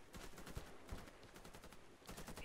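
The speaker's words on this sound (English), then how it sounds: "Headshots in with a shotgun." Shotgun and rapid gunfire in the video game Warface, a dense run of loud repeated shots with short gaps, no talk over it.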